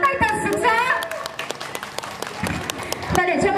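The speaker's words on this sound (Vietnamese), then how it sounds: "xin mọi người cho một tràng pháo tay thật sực rỡ." An audience at a company fashion show and anniversary celebration breaks into brief applause and scattered clapping. A loud voice with music runs over the clapping throughout.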